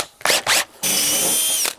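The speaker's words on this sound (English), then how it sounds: "I'm going to do a little pre-drill though, just because it makes it easier" A power drill pre-drills holes for small sheet metal screws while a range vent is installed, with two short whining bursts followed by a longer sustained high-pitched spin, loud and close.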